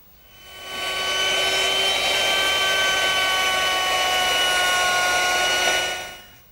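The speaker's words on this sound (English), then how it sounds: "now I've changed my bit to a 3/8 inch radius beading bit," A router fitted with a 3/8 inch radius beading bit spins up and shapes the outside edge of a wooden mirror frame, a loud, steady whine that holds for several seconds and then winds down.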